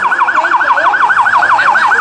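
A loud, close police car siren wails in a fast rapid up-and-down yelp at a street running race in Muriaé, Brazil, repeating steadily without pause.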